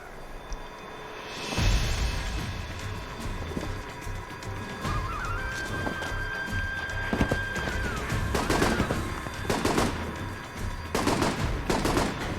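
Video game gunfire rattles in repeated bursts and single shots, loud and close, over steady game ambience with a sustained tone, and the rapid volleys cluster toward the end.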